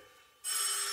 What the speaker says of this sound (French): Ne répondez pas. C'est le téléphone.